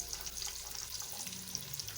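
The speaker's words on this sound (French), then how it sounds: "nous versons un filet d'huile dans notre marmite pour faire revenir les carottes, et le haricot vert" Carrots and green beans frying in a drizzle of oil in a pot, a soft continuous crackling sizzle with fine popping, steady and fairly quiet, no voices.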